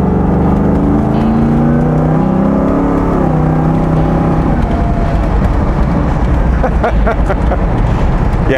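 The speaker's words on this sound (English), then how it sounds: "I knew there was going to be that roar, there was going to be that acceleration" A 1966 Ford Bronco restomod with the Velocity Blackout Package roars hard under acceleration, a loud, dense engine rumble that swells and stays continuous close by throughout.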